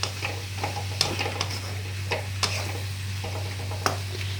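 Onions being stirred with salt in a pan for an egg and onion dish: a few soft scraping strokes and light clicks over a steady low hum, no talking.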